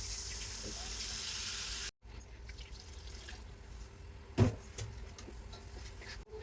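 Water pours steadily into a cooking pan of fried potatoes and spices for a Bengali fish curry, a continuous gushing rush lasting about two seconds, then stopping, followed by quieter kitchen clatter and one sharp knock.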